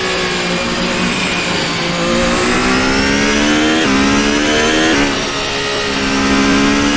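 A 2022 Ferrari F1-75 Formula One car's high-revving engine screams through a racing simulator in fourth gear, pitch climbing steadily with brief dips at upshifts, loud and continuous with no talking.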